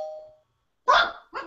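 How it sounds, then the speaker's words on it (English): A two-tone doorbell chime rings alone, followed after a pause by two loud, close dog barks. "where the dogs bark on cue."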